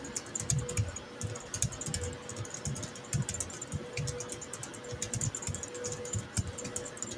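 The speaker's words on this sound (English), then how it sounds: "Patrick, got a lot of ticking going on over there. Your keyboard is" Steady computer keyboard typing during a livestream, with rapid, irregular ticking key clicks heard continuously at moderate distance against low background hum, no talking over it.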